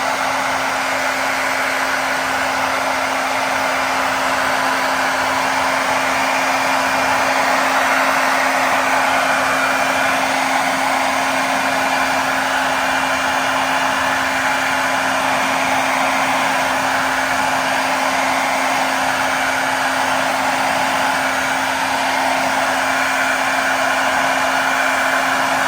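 A hair dryer blows steadily over an injured Polish chicken during a bath, a constant loud airy rush with a fixed motor hum, swept back and forth without pause.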